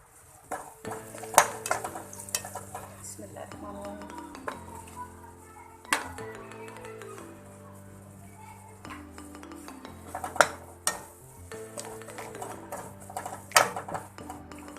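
Capsicum with cumin and nigella seeds stir-frying in a pan brings repeated spoon scrapes and metallic clinks of the pot over quiet background music, with a soft sizzle underneath and no talking.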